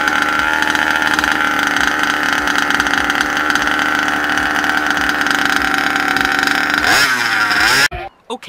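A gas engine on a 1/5 scale RC car revving loud and steady at high pitch, close by, then dropping in a brief falling sweep before cutting off abruptly near the end.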